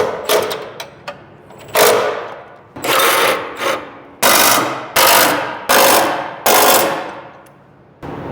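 Bolts on a Chevelle driveshaft bracket being tightened with a power tool, loud close bursts of rapid rattling impact hammering, about six short runs separated by brief pauses.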